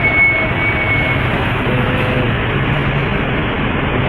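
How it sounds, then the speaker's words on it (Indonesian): A Putra Pelangi intercity bus with a Mercedes-Benz engine, fitted with LED lights, on the road near a terminal on the Medan–Aceh route gives a steady, loud, broadband engine roar that holds evenly throughout. "Nah, kali ini ada bus Putra Pelangi."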